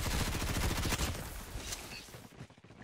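Rapid hip-fire gunfire from a mobile shooter video game, a dense stream of closely spaced shots for about a second, then thinner scattered pops that trail off.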